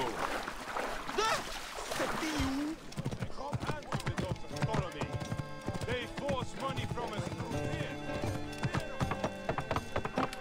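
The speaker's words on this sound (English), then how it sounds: "anyway, that's my horse." In Assassin's Creed Origins, rapid clip-clopping hooves trot steadily after a horse whinnies near the start, with a voice talking over the opening.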